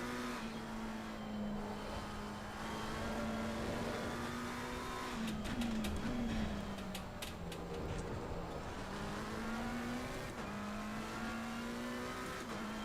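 Race car engine at Snetterton circuit in a racing video game, a steady droning tone that dips and shifts pitch as the car brakes and downshifts into corners, then pulls away again.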